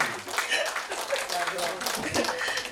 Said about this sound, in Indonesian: Tepuk tangan dia lagi untuk Maya Hasan